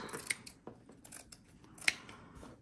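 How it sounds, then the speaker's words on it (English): Scissors trimming excess fabric while a Bible is covered in cloth, a few sharp close snips with quiet rustling between them, no voices. "I'm just gonna trim all of this off because I don't need it."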